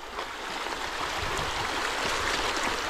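River water flowing steadily in a rural farm setting, a continuous rushing wash with faint gurgles, close and moderately loud, no voices.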